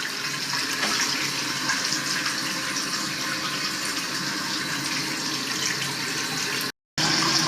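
Water streams steadily from a waterfall-style faucet with color-changing lights, a continuous close rushing splash that cuts out for a split second near the end before resuming.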